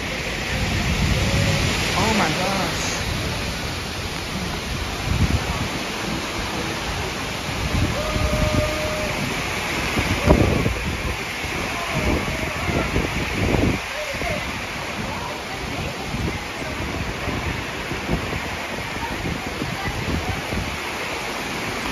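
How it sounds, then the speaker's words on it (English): Strong wind sweeps across a lake before a storm near a lakeside restaurant in Leesburg, a steady loud roaring rush with gusts, while people talk close by. "Wow, that's a lot of wind over there."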